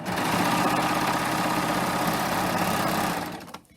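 A serger sewing machine stitches a seam at full speed, giving a loud, rapid mechanical whirr for about three seconds before stopping abruptly.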